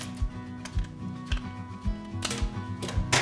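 Kitchen scissors snip off the pointed tips of a raw blue crab's shell while it is prepared for soy-marinated crab, giving a few sharp, close clicks over steady background music.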